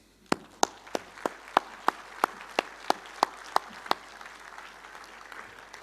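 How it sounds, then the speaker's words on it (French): Sparse applause at a healthcare convention: about a dozen distinct, evenly spaced claps ring out close and clear over a quiet room, then stop. "j'aimerais qu'on les applaudisse"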